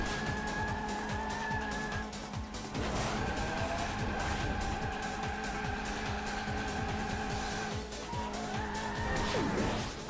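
Cars drift and skid through a kart race in Sonic & All Stars Racing Transformed. Engines drone steadily with sustained tire squeals that rise and fall, and a short crash-like burst comes near the end.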